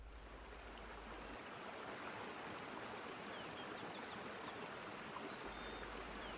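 The Kara Darya river flows through the city of Osh, a steady, dense rushing of water that holds even and unbroken throughout with no voices.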